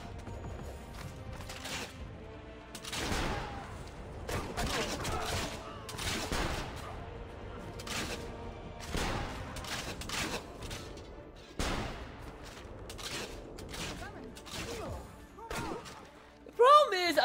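Gunfire from enemy gunmen in Assassin's Creed Revelations, scattered sharp shots and thuds recurring irregularly over the scene, moderately loud, with a voice talking over parts of it.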